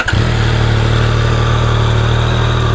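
A 2025 Yamaha YZF-R9 idles up close with a smooth, even engine hum, steady and loud with no revving, heard alone.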